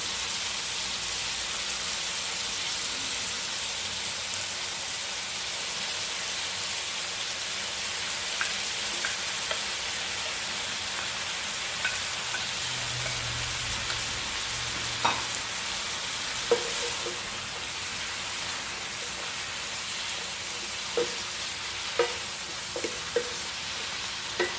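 Broccoli added to a pan of cooked-down peppers and onions frying alongside steak, giving a steady low sizzle with occasional stirring clicks and clinks throughout, fairly quiet and without talk.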